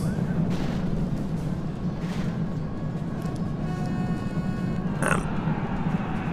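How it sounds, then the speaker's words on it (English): A cavalry charge in the video game Rome Total War, a dense low rumbling battle roar of hooves and massed combat, loud and continuous, with a sharp metallic impact near the end. "Right, you can see my cavalry here. I'm going to charge in."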